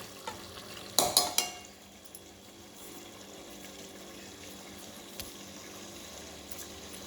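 Rice tips into a hot pan with a brief burst of rattling grains, then settles into a faint, steady sizzle as it roasts for matar aloo masala bhat, one light knock later.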